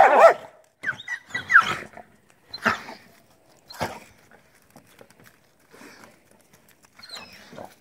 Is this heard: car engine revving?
no